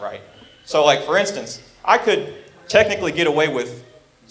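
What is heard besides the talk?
No distinct noise like a dog, phone or traffic.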